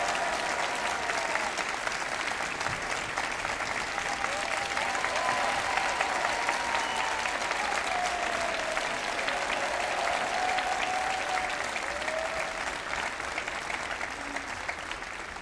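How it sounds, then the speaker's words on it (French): Sustained audience applause fills a concert hall at a televised Christmas choir show, a steady dense wash of clapping from a large crowd, continuous and fairly loud throughout with faint musical tones underneath. "On les applaudit bien fort."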